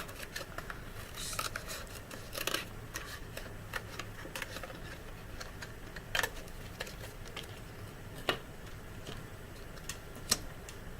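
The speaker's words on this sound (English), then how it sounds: "Cut yourself a little piece of scrap." Scissors snip through a small piece of scrap paper for a craft, with sharp, irregular close clicks and cuts scattered over a quiet background and no talking.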